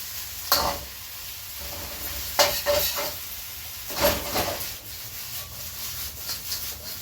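Shrimp and snow peas stir-fried in a hot pan, with a constant sizzle and several louder scraping, tossing strokes of the spatula coming at uneven intervals.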